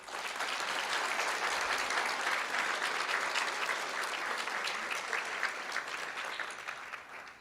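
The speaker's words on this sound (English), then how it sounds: "Let's give her a round of applause." An audience at a school district board of trustees meeting applauds, a dense, even wash of clapping held for several seconds before tapering off at the end.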